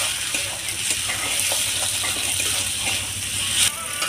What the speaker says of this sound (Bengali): মশলাটা ভেজে নিয়েছি, তো এর মধ্যে টমেটো কুচো দিয়ে দেবো।